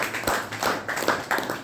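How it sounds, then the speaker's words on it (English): Audience at a Toastmasters club meeting giving a round of applause, a brief burst of close, dense clapping with uneven pulses throughout. "I think we have to give a big round of applause"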